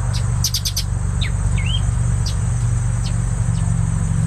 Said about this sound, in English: That was a beautiful bird.